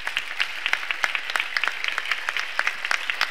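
Audience applause at a flamenco festival, a dense patter of many hands clapping steadily with sharp individual claps standing out, moderately loud and with no voices over it.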